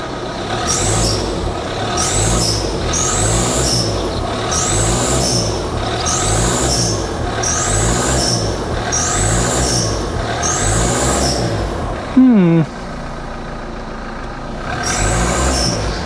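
An engine revs repeatedly in a steady, loud rhythm, its exhaust full of oil and smoking. One rev cuts off abruptly with a short falling whoosh and a pause before the revving resumes.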